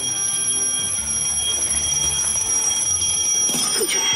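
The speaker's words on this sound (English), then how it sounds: "you need to make sure at least one alarm is ringing by the end of the challenge" An alarm rings continuously as part of an escape-room challenge, a steady high-pitched tone with bell-like overtones that is loud and sustained throughout.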